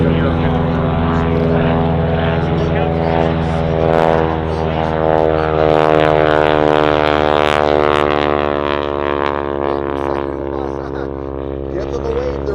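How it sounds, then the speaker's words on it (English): A propeller airplane carrying wingwalkers flies past at an air show, its engine a loud, steady drone that rises and shifts in pitch as it passes, with a voice talking over it. "Joseph Bender flying the aircraft"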